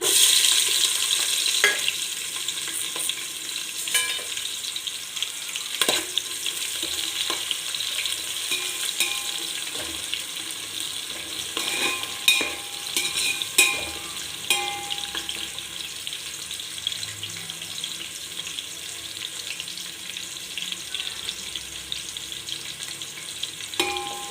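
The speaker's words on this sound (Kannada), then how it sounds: "ಈಗ ಆಯಿಲ್ ಹೀಟ್ ಆಗಿದೆ, ಆನಿಯನ್ ಹಾಕ್ಕೊಳ್ತಾ ಇದ್ದೀನಿ" Onions fry in hot oil for chicken biryani, a bright continuous sizzle with crackling pops and occasional stirring clatter, close and steady throughout with no talking.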